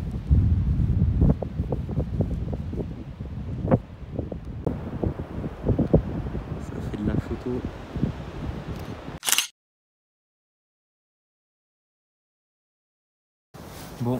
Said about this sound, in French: Le vent là, glacial.